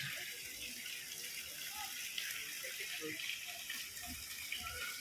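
Water flows steadily through an artificial river at Manila Zoo, a continuous broadband rush heard close by with no breaks, faint scattered background sounds mixed in.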